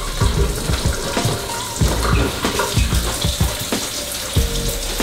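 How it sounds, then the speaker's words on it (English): Hands are washed under a running kitchen tap while cooking vegetarian spaghetti; steady water flow with repeated splashing and rubbing close by, no talk. "I'm gonna wash my hands"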